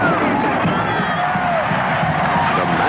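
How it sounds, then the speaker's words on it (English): A large stadium crowd roaring and cheering at a 1973 Penn State homecoming football game against Navy in Beaver Stadium, a dense, sustained wash of distant voices. "matchless enthusiasm generated by the 2nd largest crowd in Beaver Stadium history"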